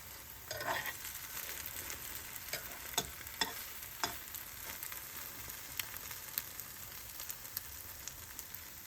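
A Polish-style omelette with ham, mushrooms, onion and pepper fries in a hot pan, holding a soft, steady sizzle with occasional sharp crackles and pops at moderate closeness.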